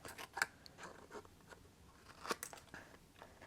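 Scissors rough-cut card stock for card making, giving a few faint, quiet snips and crunchy paper cuts scattered over a soft background.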